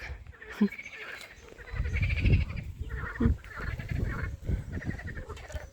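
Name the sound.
frogs croaking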